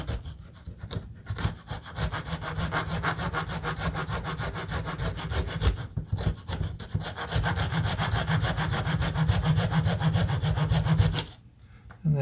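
A small hand saw cuts through a little model aircraft part, a fast continuous rasping back-and-forth stroke close up for about eleven seconds before stopping.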